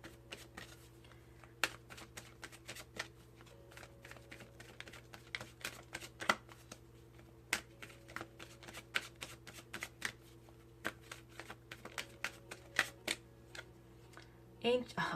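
A deck of oracle cards is shuffled close by in a quiet room, a busy run of soft riffling slaps and taps that continues throughout, with a steady low hum underneath.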